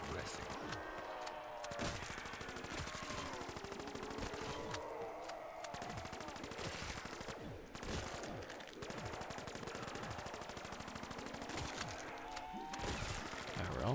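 Sustained rapid weapon gunfire from Black Ops 3 Zombies on The Giant, dense bursts of automatic shots with brief pauses, loud and continuous throughout, layered with other in-game effects.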